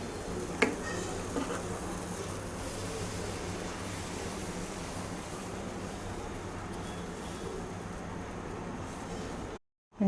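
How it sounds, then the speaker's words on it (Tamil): Adai dosa batter sizzles steadily on a hot griddle, a continuous close, even frying hiss with a faint brief clink near the start. "இனிமேல் தோசை ஊற்றிக்கலாம்."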